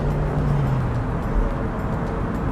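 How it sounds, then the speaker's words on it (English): A stock 2002 Toyota MR2 Roadster with a TTE styling kit shifts gear while driving, its engine drone easing in pitch about a second in before a steady low rumble and road noise continue. "That gear change is beautiful."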